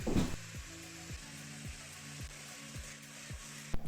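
An electric blender whisk attachment beats eggs with sugar and salt at home, giving a quiet steady buzzing hum with a regular clattering tap repeating about every half second.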